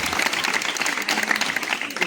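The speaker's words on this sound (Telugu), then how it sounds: "మీ చప్పట్లు కొట్టండి, మీ చప్పట్లు" A church congregation claps hands together in a dense, steady burst of applause, loud and close, with a crowd filling the room and no talk over it.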